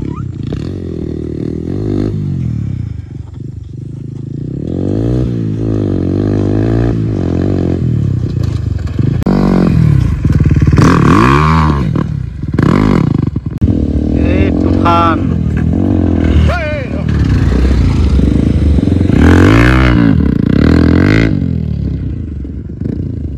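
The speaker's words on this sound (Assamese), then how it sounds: "ট্ৰেকত 3খন বাইক আৰু চাই আছোঁ মই" Dirt bike engines on a practice track rev and whine in rising and falling sweeps, fairly close and loud, with a voice talking over them throughout.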